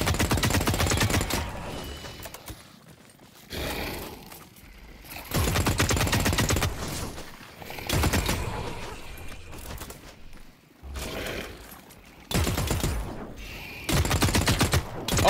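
Repeated heavy bursts of gunfire from the Manticore in The Cycle: Frontier, loud and close, arriving in about half a dozen separate volleys with short quiet gaps between them.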